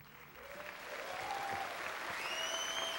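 A crowd at a live concert by Martinho da Vila breaks into sustained applause that builds and holds, with scattered whistles and cheers cutting through the clapping.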